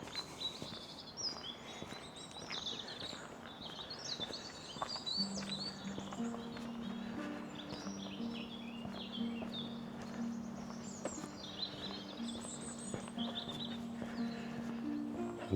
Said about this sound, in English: And it's nice to hear the birds this morning.